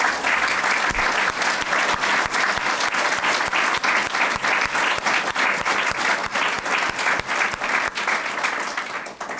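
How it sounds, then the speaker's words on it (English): A crowd at a Montgomery College renovation celebration applauds its elected officials, dense sustained clapping that stays loud and even for the whole stretch before tailing off slightly. "Please give all of our elected officials an applause for their commitment to Montgomery College."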